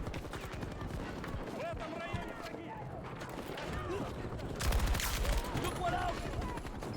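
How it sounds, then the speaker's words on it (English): Rapid machine-gun bursts from a PKP in the Battlefield 2042 video game crackle through a busy battle mix, growing louder and denser near the end, with a voice talking over the gunfire. "This gun, the PKP, is a machine if you end up using it."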